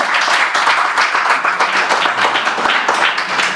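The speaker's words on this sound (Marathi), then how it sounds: "तिच्यासाठी जोरदार टाळ्या एकदा" An audience at a concert applauds a female singer with dense, loud, sustained clapping that stays even throughout, with no voices over it.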